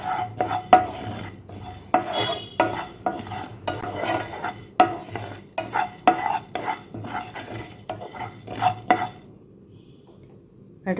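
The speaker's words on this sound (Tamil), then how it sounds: "இப்போ அடுத்தது தனியா வறுத்துக்கலாம். இதுலேயே சீரகம் போட்டுக்கிறேன் நான்." Dry roasting coriander seeds and cumin in a pan, with repeated scraping stirs of a spoon against the metal pan in uneven bursts, a faint crackle between strokes, then quiet near the end.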